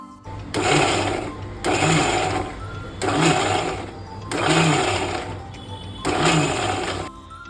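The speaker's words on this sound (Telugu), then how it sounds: "నెక్స్ట్ ఆనియన్స్ ఇలా పీసెస్లా కట్ చేసుకొని టోటల్గా పేస్ట్లా కాకుండా ఇలా గ్రైండ్ చేసుకోండి" A mixer grinder chopping cut onion pieces into a coarse grind, running in five short, loud pulses of steady whirring separated by brief pauses.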